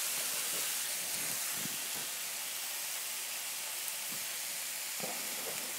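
Onions fry slowly over lowered heat in a pan while a Philly cheesesteak is cooked, making a steady, soft sizzling hiss with a few faint pops and clicks throughout.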